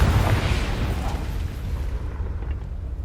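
A Confringo fire spell explodes in Hogwarts Legacy, a loud low boom with a rumbling burst that fades over a few seconds into a dull roar, no voices heard.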